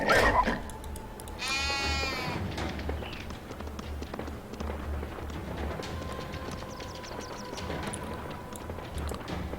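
A sheep bleats once in the biblical action-RPG FIVE: Guardians of David, a clear wavering cry rising over a steady outdoor ambience with faint footsteps, after which the background carries on quietly.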